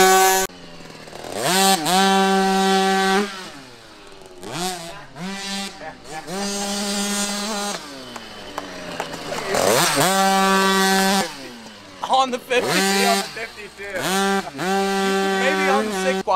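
A quad engine revs hard on a dirt track, rising and falling in repeated loud, close throttle bursts with sharp pitch sweeps and brief pauses between pulls.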